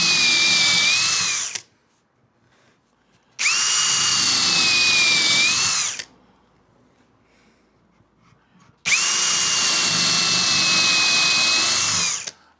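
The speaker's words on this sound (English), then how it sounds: "if you're drilling down, if you're just using sort of the drill on its own" Woodworking power drill from Banggood runs in three long, loud, close bursts, each lasting a few seconds with a steady high whine, separated by quiet pauses and no speech.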